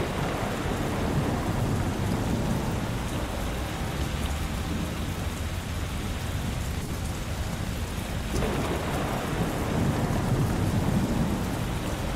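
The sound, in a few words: thunderstorm with heavy rain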